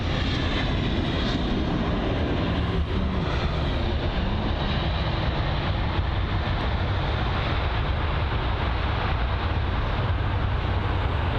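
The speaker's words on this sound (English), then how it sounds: "That was a good landing, nice and soft or smooth." An airliner lands on runway 27R at London Heathrow, a loud, broad, steady engine roar and rumble that holds throughout without a break, no voices.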